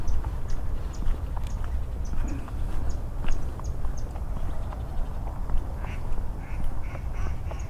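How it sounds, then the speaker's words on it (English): A duck in a dry summer nature preserve ravine quacks in short repeated calls at moderate distance over steady outdoor ambience, with faint rustling footsteps nearby. "There's a duck."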